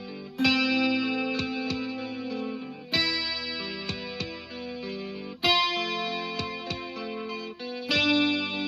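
A rock electric guitar track with effects, played from a CD, plays chords in repeating phrases, each strummed hit ringing out with a steady rhythm; no voices.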